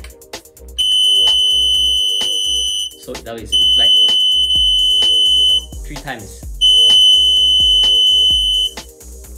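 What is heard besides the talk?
alarm of industrial digital production counter after reaching target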